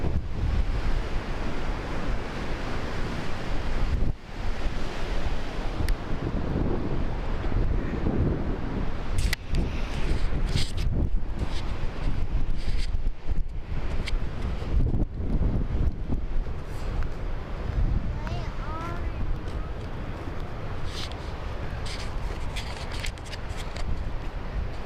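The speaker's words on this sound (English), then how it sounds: "That sound of that water really makes me thirsty" Rushing water flows at Jay Cooke State Park near backpack campsites in Carlton, Minnesota, a loud continuous roar mixed with gusty wind buffeting the microphone, with no talking.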